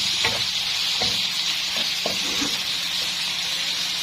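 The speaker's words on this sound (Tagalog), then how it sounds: "At gisahin muna natin to hanggang sa matuyuan siya guys" Salted, seasoned food sautés in a pan with a steady close sizzle, broken by a few soft scraping stirs and taps of the utensil, with no talking.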